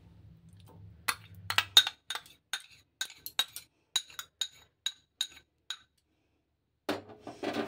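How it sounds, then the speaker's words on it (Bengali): Sour yogurt being beaten with a spoon in a bowl for raita, a series of sharp close clinks of metal against the dish in an uneven, steady rhythm, with a brief pause before more tapping. "টক দইটা আমি একটু ফাটিয়ে নিচ্ছি চামচের দ্বারায়"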